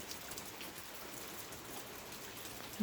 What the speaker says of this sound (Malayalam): മഴ തോർന്നു കഴിഞ്ഞെങ്കിലും മരം പെയ്യുന്നുണ്ട്